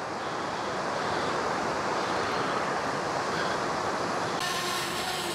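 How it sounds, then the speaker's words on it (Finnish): Rushing river rapids in Lapland roar steadily and loudly, a continuous broad churning wash of water with no pauses and no voices. "Koski kuohua."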